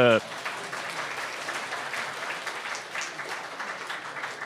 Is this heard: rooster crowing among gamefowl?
no